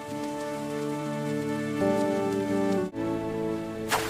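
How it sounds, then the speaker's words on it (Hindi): Rain falls steadily on a surface, a soft continuous patter under a sustained musical tone, with a brief pause and a sharp burst near the end. "देखो, बारिश हो रही है।"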